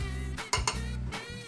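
A utensil scrapes and clinks against a bowl while stirring sugar and dehydrated glucose together for a coconut sorbet, a few quick metallic taps over a steady hum.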